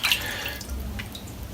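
Hot tap water runs over a clogged razor during a head shave, a short close splash and trickle of water with no talking.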